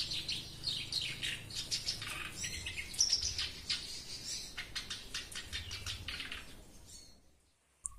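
A black-browed kerak basi bird sings busily in rapid, bright chirping phrases, fairly close, over a faint background hiss, tapering off toward the end.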